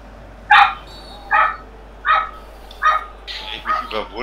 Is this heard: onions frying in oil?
no